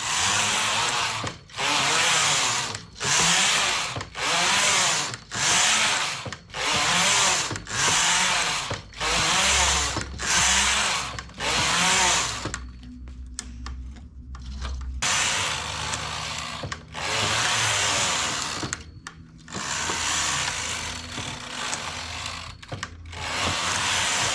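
A domestic knitting machine carriage sweeps back and forth across rows of yarn for a collar, making loud rhythmic mechanical whooshes about once a second, with a brief pause and quieter clicking midway.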